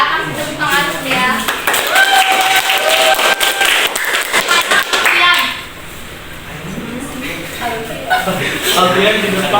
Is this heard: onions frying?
no